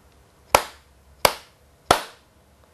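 Three evenly spaced hand claps ring out close and clear in a quiet room, one per syllable of a word, each a crisp slap with a brief decay.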